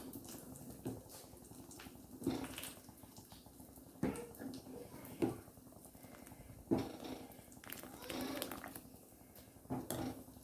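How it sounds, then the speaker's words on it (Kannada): Jackfruit payasam boils in a pot, giving irregular soft bursts of bubbling and plopping, close and moderately loud over a low simmering hiss. "ಕುದಿಸೋ ಪಾಯಸ ಚೆಂದ ಕುದ್ದಿದೆ, ಉಕ್ಕಿ ಬರ್ತಾ ಉಂಟು."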